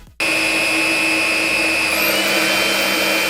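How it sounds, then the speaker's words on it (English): A Dreame U20 cordless vacuum cleaner switches on abruptly and runs steadily, its motor giving a loud, sharp whine with a high tonal hum that shifts pitch slightly partway through, close and alone. "The vacuum's relatively quiet, around 70 to 72 decibels depending on the mode."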